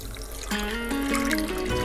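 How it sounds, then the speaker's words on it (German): Cold water pours from a spoon into a large bowl holding two packets of gelatin, a steady trickle with rising pitch as the bowl fills, close and alone. "geben wir uns jetzt die 2 Päckchen Gelatine in eine größere Schüssel und geben 12 Esslöffel Wasser dazu"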